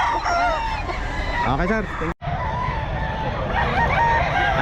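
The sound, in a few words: roosters crowing and clucking at pet market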